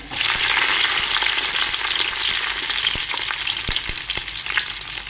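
Mustard seeds and ginger sizzle in hot oil for Kundapura-style kori rotti, a loud, dense, steady frying hiss with a few popping crackles and stirring clicks, and no voices.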